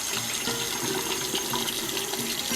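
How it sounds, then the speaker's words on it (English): Tap water runs steadily into a sprouting jar during a day-two rinse of hydroponic sprouts, a continuous close splashing hiss with no talk. "Filling up the jar, clearing out all the extra stuff from the water."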